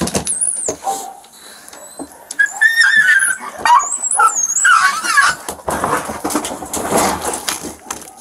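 Feral dogs being captured in Montezuma County yelp, whine and squeal in sharp high-pitched bursts, close and loud, with scuffling and rustling noises between the cries.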